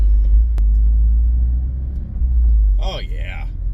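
A Toyota GR Corolla with drivetrain upgrades drives along, its engine and road noise forming a heavy, steady low rumble heard from inside the cabin, and a voice speaks briefly near the end.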